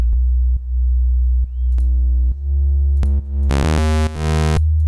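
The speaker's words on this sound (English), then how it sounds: "this is just basically a bunch of sine waves" Deep sustained sine-wave sub bass notes, dropped an octave, pulsing in a looping pattern in a bass patch, with clicks and a bright synth chord stacking up near the end.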